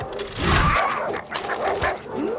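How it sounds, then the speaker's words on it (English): Dogs in Far Cry 6 barking and whining in short close bursts, several yelps overlapping over roughly two seconds, loud and agitated. "Those dogs are going to tear him to pieces."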